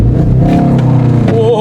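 Volkswagen Golf R launching with launch control, its engine holding a loud, close rev that climbs in pitch as the car pulls away, and a voice briefly sounds over it.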